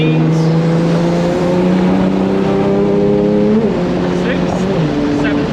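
A 2JZ-swapped BMW E30 with a dual-clutch gearbox pulls hard through its gears, the steady engine drone stepping down in pitch at quick shifts around the middle and end, loud and close throughout.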